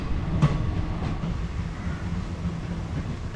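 Train rolling past a station platform, a steady loud rumble with rhythmic wheel clatter, one sharp clank near the start, no voices.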